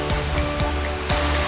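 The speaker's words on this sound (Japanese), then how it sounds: "ここが正真正銘本物の心霊の滝です" A mountain-trail waterfall, Shinrei Falls on Mt. Mitsutoge, as a dense, steady broadband roar of falling water, loud and close, with brief low thumps running through it.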